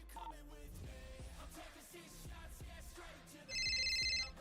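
Phone ringing in GTA V roleplay, a bright electronic ringtone cutting in near the end over background game sound and music.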